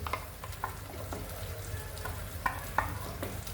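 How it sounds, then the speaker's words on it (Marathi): Masala paste for malai kofta gravy frying in hot oil in a pan, a steady soft sizzle with occasional louder pops and stirring scrapes, close and alone. "ते चांगलं तळून घ्यायचं आपल्याला"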